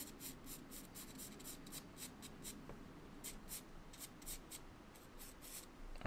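Charcoal scratches across paper while refining an edge in a still-life drawing, producing quiet, repeated short hatching strokes in a quick irregular rhythm, close and soft, with no talking.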